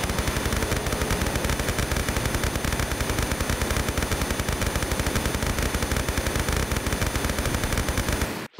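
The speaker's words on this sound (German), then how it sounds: "Ich baller das alles weg hier, ist mir egal." Sustained automatic gunfire from shooting enemies in Tomb Raider III, a dense, rapid, evenly paced stream of loud shots that runs without a break for about eight seconds, then cuts off abruptly.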